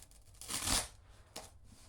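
A styrofoam lid is poked and then ripped apart by hand, making a crinkly, scratchy tearing burst up close. It is followed by a shorter rip, with no talking.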